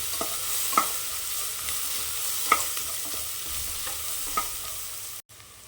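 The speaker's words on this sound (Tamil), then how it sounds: "சின்ன வெங்காயம் நல்லா வதங்கி வரட்டும்" Small shallots sauté in a pan for mutton varuval, giving a low continuous sizzle with a few crisp utensil scrapes spaced a second or two apart, close and quiet with no talking, ending in a sudden cut.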